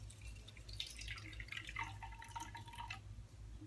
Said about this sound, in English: Now I'm going to pour it into hers.